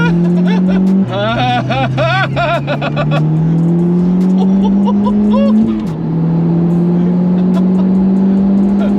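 A 380bhp Audi TTS track car drives hard on a circuit, its engine droning loudly and steadily up close, with rapid shifts in pitch and a sharp gear change midway, under occasional voices.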